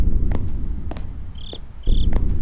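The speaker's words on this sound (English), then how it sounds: "the crickets are back" Crickets chirp in the horror game Slender: The Eight Pages, bursts of shrill, repeated trills rising over a low rumbling ambience, with a couple of faint knocks, no talking.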